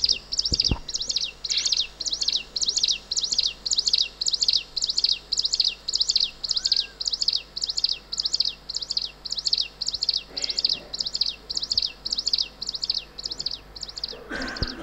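A male songbird sings a territorial breeding song, clear bright chirped phrases repeated in a fast, even rhythm about twice a second, close and loud over a quiet background, with no speech.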